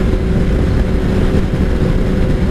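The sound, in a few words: 2003 Kawasaki ZR7S motorcycle engine still running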